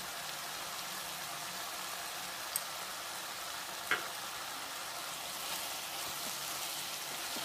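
Ginger garlic paste fries in hot oil for a brinjal and mango curry, giving a steady, close sizzle throughout with a few faint clicks from stirring.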